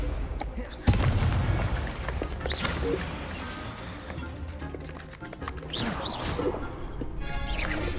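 A Confringo explosive spell from Hogwarts Legacy goes off in a game duel: a sharp blast followed by crackling impacts, whooshes and scattered combat noises over a busy background.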